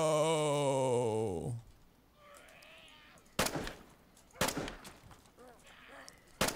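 Gunshots in the video game DayZ: three sharp, loud cracks spaced about a second apart, following a descending wailing tone and quieter murmuring voices in between.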